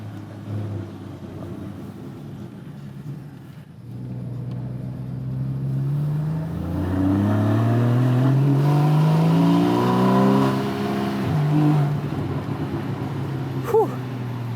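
A Porsche Cayman GTS or Mercedes GLC63 sports car engine starting up and revving, rising and falling in pitch, loud and close, settling into a rumbling idle, with a faint voice briefly heard.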